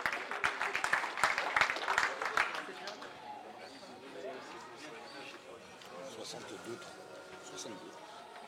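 Audience applause at a kickboxing weigh-in, a burst of clapping for about three seconds that fades into murmuring crowd chatter and scattered voices.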